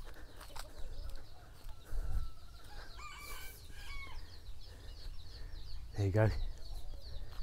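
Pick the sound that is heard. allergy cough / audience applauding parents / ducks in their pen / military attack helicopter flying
ducks in their pen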